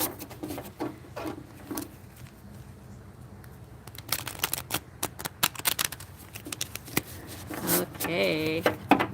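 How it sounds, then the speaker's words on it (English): A deck of tarot cards being shuffled close up, with soft papery riffles and patters in short bursts, growing busier and louder toward the end. "Let's go ahead and shuffle these cards."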